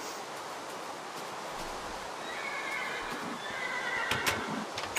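A horse in the Minecraft Mo'Creatures mod gives a faint, breathy neigh with a shaky whinny, set against steady rain-like hiss and a few soft clicks.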